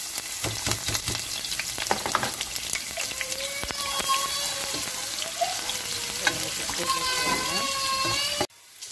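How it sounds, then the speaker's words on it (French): Onions simmering and frying in oil in a cooking pot for peanut-sauce mafé with smoked fish, a steady close sizzle with stirring clatter and scraping, and a voice speaking over it before a sudden cut near the end. "Je fais mijoter les oignons."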